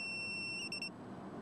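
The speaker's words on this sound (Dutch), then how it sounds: "Een hoge pieptoon waar echt niemand doorheen kan slapen." A small anti-drowsiness alarm clipped behind a driver's ear gives a shrill, high-pitched electronic beep: one steady tone, then a few rapid pulses before it cuts off over a low background hum.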